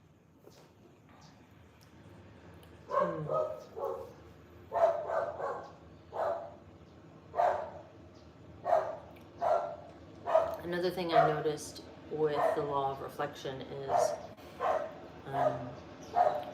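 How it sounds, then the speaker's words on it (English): Dogs bark repeatedly at a steady, insistent rhythm, several barks overlapping at times, with a person talking at moments underneath. "The truck is coming up the drive, and the dogs are barking."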